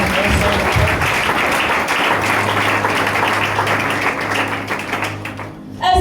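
A church congregation applauds God, with loud, dense clapping and crowd noise sustained throughout, thinning briefly just before the end.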